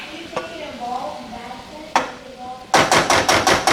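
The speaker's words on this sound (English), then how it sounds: "I'm gonna make a little pool, and then dump the tomatoes in there." Tomatoes dumped into a hot, oil-free pan of spiced zucchini give a brief soft impact, then a run of rhythmic, close scraping and sizzling bursts near the end, with no talking.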